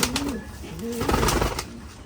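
Pakistani pigeons coo in a large pigeon loft, their low rolling calls rising and falling in several close, overlapping phrases.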